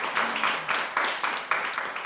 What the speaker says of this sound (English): Good, let's clap.